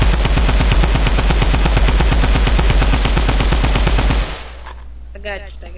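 Loud, steady automatic gunfire in a video game, a fast unbroken burst of shots that stops abruptly near the end, followed by a brief voice.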